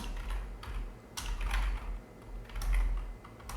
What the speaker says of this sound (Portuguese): E vou aqui digitar